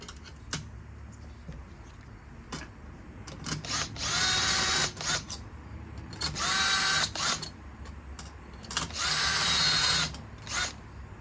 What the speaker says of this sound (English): hit it with the back side of the drill real quick